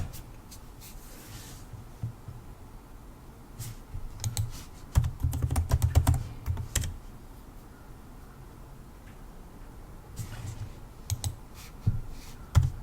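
Password keystrokes on a computer keyboard come as light clicks in scattered bursts with gaps between them, quiet and close, with no voices.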